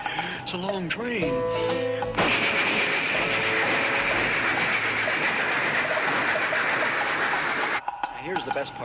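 A man vocally imitates a long steam train, making a sustained, loud hissing chug that runs for several seconds after brief voiced whistle-like sounds, then stops abruptly.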